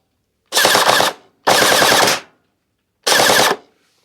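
A Faction Havoc gel blaster fires three full-auto bursts, each a rapid rattling stream lasting about half a second, loud and close, separated by short pauses with no talking.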